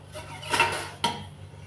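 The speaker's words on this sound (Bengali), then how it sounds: "15 মিনিট হয়ে গেছে, এবার ঢাকাটা খুলে দেখে নেব।" A metal lid lifted off a steaming pot of carrot and paneer momos, giving a soft clank around the half-second mark and a sharper metallic knock a moment later, close and fairly quiet.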